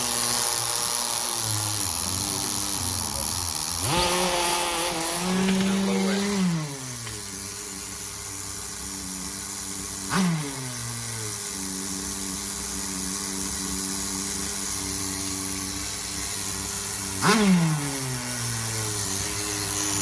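A Tamiya TGS-R nitro RC car's rebuilt engine, running hot and a little lean, buzzes at a high idle and gets three sharp throttle blips, the first longer and warbling, each falling back to a steady drone.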